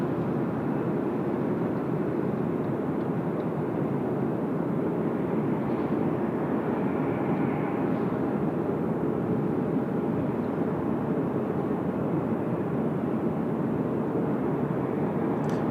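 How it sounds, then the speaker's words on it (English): A Qantas airliner bound for Tokyo takes off from runway 34 left at Sydney Airport, with a steady, broad engine roar holding even and unbroken throughout, heard alone from a distance. "Qantas 59 off to Tokyo, just about to roll now, 34 left as well."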